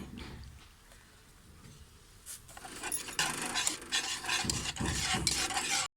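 A sweet paste of powdered sugar and vanilla essence is stirred in a pan over a low flame, quiet at first, then repeated close scraping and rubbing strokes.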